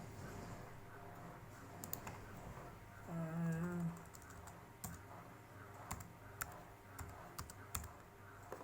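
Quiet, scattered clicks of a computer keyboard as a search for MS Paint is typed on a Windows 7 PC, with soft room noise underneath.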